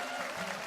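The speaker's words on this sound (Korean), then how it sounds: "박수 한번 주세요, 여러분" Brief applause from a church congregation, a short even patter of clapping lasting under a second.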